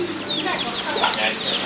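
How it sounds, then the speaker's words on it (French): Small chickens and ducklings being fed call in quick, bright clucks and peeps at close range over a steady background hiss. "Les petits canards et les petits poulets, ils aiment bien."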